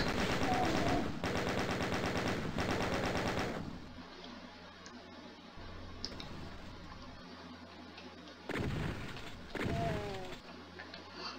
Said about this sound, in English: Now it's time to put the chain gun to work.